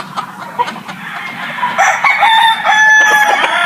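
Roosters crow repeatedly at a game farm keeping white gamefowl, long drawn calls overlapping one another with scattered clucking from the flock, fairly near and loud.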